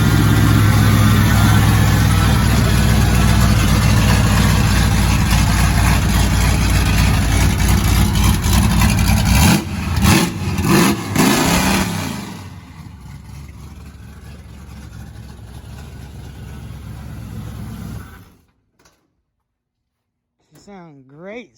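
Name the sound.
truck engine idling and revving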